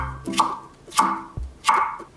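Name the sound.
knife julienning vegetables into 2mm strips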